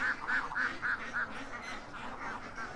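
Ducks quack in a quick run of about half a dozen nasal calls, then softer, scattered quacks follow, all faint and somewhat distant with no voices.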